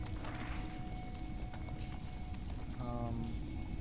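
Steady rain in the video game No Man's Sky, a dense continuous hiss of falling drops filling the whole stretch, with a few faint game tones over it.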